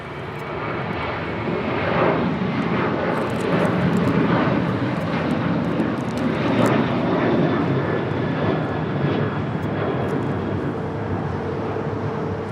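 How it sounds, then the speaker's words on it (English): A United airliner roars during departure from Los Angeles International Airport bound for Seattle, its engine noise loud, broad and sustained with wind buffeting. "That was United 1595 departing to Seattle"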